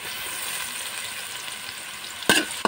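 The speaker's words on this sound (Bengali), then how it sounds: "এগুলো একটু আমি ভালো করে কষিয়ে নিব" Chopped onion, ginger and garlic sauté in a hot pan, giving a steady, even sizzle throughout, with a short sharp scrape or clatter near the end.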